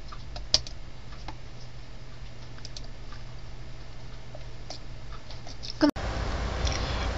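Typing a search query on a computer keyboard, with light scattered key clicks over a quiet hum, one sharper tap, then a sudden shift to a louder, busier background near the end.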